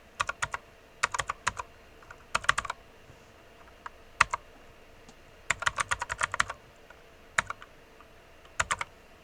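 Keys clatter on a computer keyboard in short bursts of rapid taps separated by pauses, close and crisp in a quiet room, as a command is typed.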